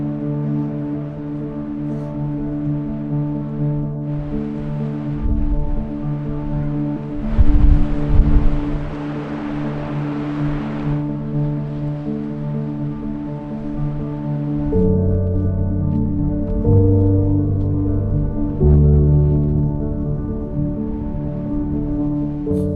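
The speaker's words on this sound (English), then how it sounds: "wind gust has just finished, and I could barely stand up on my own 2 feet during that wind gust" Strong wind gusting across an exposed stretch of the Scottish north coast, a broad roaring rush that swells for several seconds, then eases into steadier buffeting with a low rumble underneath.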